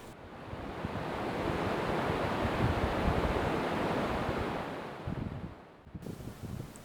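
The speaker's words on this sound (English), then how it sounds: "the wind picks up and the disturbance on the water just sort of spreads across the scene" Wind sweeps over a mountain lake in Rocky Mountain National Park, a steady roaring rush with rippling water beneath, swelling through the middle, then easing and briefly dipping near the end.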